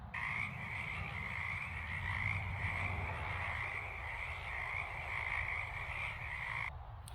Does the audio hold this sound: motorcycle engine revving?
no